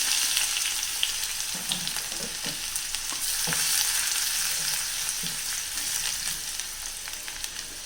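Crushed cumin and garlic sizzle and crackle in hot oil, a steady frying hiss with occasional sharper pops.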